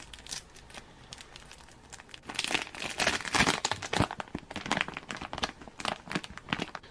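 An old cellophane waterproof bag from 1945 RAF emergency rations crinkles close up, soft at first, then growing into louder, busier crackling handled continuously.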